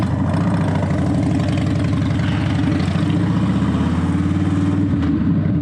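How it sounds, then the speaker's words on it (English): A Harley-Davidson motorcycle engine idles with a steady, loud, low rumble and uneven pulsing throughout, heard close up with no talking. "I like to ride my Harley every day. She rumbles and pops and people get out the way."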